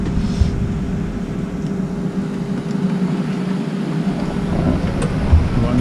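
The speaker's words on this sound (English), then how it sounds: "We're on the plane." A steady, loud, broadband roar fills the cabin of a passenger airplane on a flight to Puerto Rico, with a faint constant hum and no talking.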